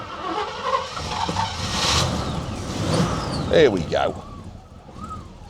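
A 1978 Cadillac Seville Elegante with a 5.7 L V8 starts up, gets a bit of throttle and settles toward a rumbling idle, with revs rising and falling as someone talks nearby.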